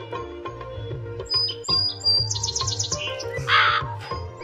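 A crow in the Meena Raju video game gives a run of bright synthetic chirps and caws over a looping game-music background, each call clear and close.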